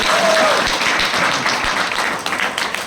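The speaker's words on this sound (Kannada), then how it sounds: "ಒಂದು ಚಪ್ಪಾಳೆ ಕೊಟ್ಟರೆ ಮೋಸ್ಟ್ಲಿ ಇನ್ನೂ ಖುಷಿ ಆಗ್ತದೆ." A seminar audience claps at a network-marketing event, a loud burst of many hands that holds steady, then thins into scattered claps and taps over about three seconds.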